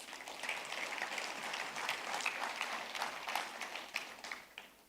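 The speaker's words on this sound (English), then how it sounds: "Can we have a big round of applause?" Sustained audience applause filling a conference hall at a national parts distributors event, dense steady clapping throughout with no voices over it.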